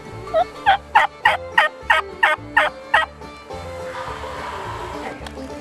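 A wild turkey gobbles in a rapid run of about eight loud, evenly spaced calls, fairly close in an outdoor river setting, followed by quieter rustling ambience.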